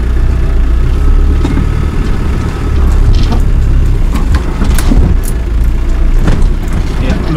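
A Camel Trophy Land Rover Defender engine labouring in second gear low range off-road, a steady loud mid-pitched drone with rough mechanical texture and some knocks throughout.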